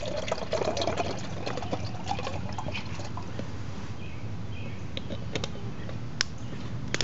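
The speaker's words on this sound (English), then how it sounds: "Go ahead and pour my water in my cook pot." Water poured into a small ultralight camping cook pot outdoors in wind, a faint trickling fill heard for several seconds over steady breezy background noise.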